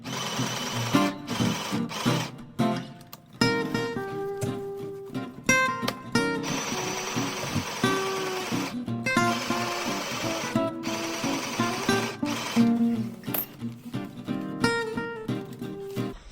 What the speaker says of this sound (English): You can sew it using a sewing machine